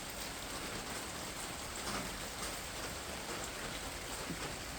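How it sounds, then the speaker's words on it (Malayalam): Heavy rain pours steadily, a dense, constant hiss of drops hitting surfaces with no letup. "ഇവിടെ നല്ല മഴയും ഇടിയൊക്കെയാണ് കേട്ടോ"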